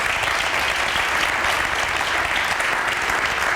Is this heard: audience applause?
yes